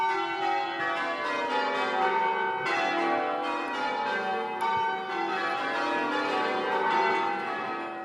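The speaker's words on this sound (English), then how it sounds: "where the bell ringers are ringing up to 12 bells." Church bells in change ringing, with up to twelve bells pealed by ringers in patterned sequences, a dense, continuous wash of overlapping metallic tones with steady strikes throughout.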